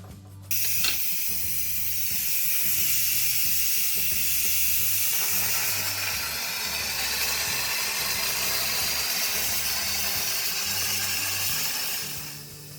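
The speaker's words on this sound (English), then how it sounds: "Now I'm going to release the steam" Loud continuous hiss of steam being released from a pressure cooker of red bean soup, with a rhythmic rattling chug underneath that lasts throughout.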